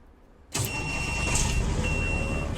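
A heavy truck engine in American Truck Simulator cranks and catches after a short stretch of quiet, then settles into a loud, steady diesel rumble and idle.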